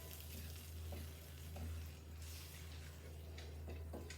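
Shallots sizzling and frying in a pan for fisherman's risotto, a steady soft crackle with occasional stirring scrapes, fairly quiet and with no talk.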